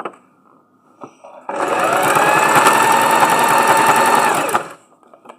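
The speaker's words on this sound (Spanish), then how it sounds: "Ahí voy cosiendo a poquito" A domestic sewing machine stitches fabric in one steady, loud, continuous run of about three seconds, preceded and followed by quieter handling clicks.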